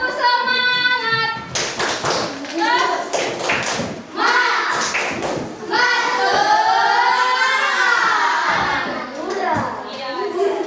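Children perform a rhythmic spirit clap in a classroom, hands tapping and clapping in patterned bursts mixed with sung and chanted children's voices, close and lively.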